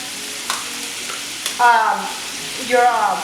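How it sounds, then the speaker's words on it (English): Shrimp sauté in a pan with a soft, constant sizzle, broken by a few brief clinks and scraping bursts as they are stirred. "let your shrimp actually saute until they get pink, which is about maybe 2 to 3 minutes"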